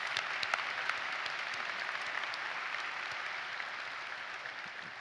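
Sustained applause from a large audience fills the whole stretch at a university commencement ceremony, a dense, steady clapping that holds at an even level throughout.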